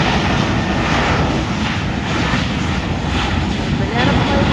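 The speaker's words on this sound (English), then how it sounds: "Banana plane taking off to Fort Lauderdale, I think." A jet airliner takes off from San Juan airport, Puerto Rico, bound for Fort Lauderdale; its engines give a loud, continuous roar that swells slightly as it goes.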